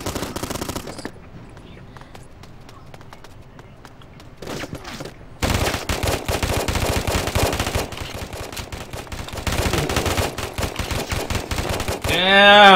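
An HMG24 machine gun fires in a video game: a few scattered shots, a quieter lull, then sustained rapid bursts of loud gunfire from midway on, rising toward the end.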